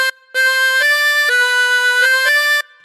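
Harmonica playing the opening phrase of God Save the Queen as a run of clear, sustained blown and drawn notes, close and loud with short breaths between them, with no voice.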